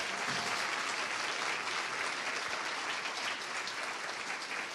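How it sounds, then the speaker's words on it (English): An audience at an Earthkeeper event gives a sustained round of applause as a guest speaker is welcomed; dense, steady clapping fills the whole stretch without a break. "a big Earthkeeper round of applause for Dr. Samir Osmanagich"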